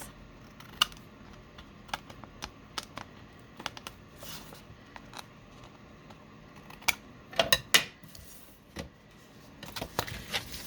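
Fabric for a triple-fold pocket is trimmed with scissors, giving scattered crisp snips and clicks at an uneven pace, close and fairly quiet, with a busier cluster of cuts partway through.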